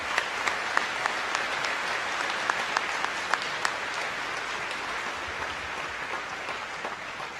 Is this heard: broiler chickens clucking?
no